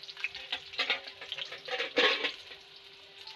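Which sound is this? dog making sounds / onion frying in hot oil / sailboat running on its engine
onion frying in hot oil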